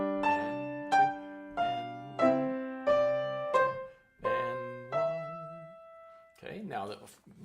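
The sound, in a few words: piano exercise played with both hands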